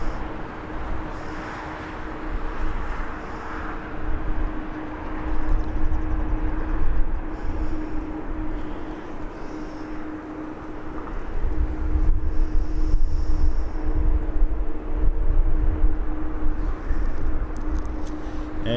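Air France passenger jet at Birmingham Airport, a steady loud engine roar with a constant tonal whine, sustained and rising slightly in strength across the clip, with outdoor wind noise.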